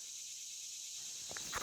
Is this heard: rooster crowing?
no